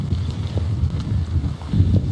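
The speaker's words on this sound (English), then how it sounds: "You know the winds are picking up that roar around this building." Strong Hurricane Harvey wind roars steadily around a building, a loud low rumble of buffeting gusts and wind noise on the microphone with no pause.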